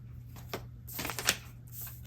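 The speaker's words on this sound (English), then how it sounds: "one more shuffle for good measure" Soft riffling of playing cards being shuffled nearby, a quiet flutter with a light snap, no talking.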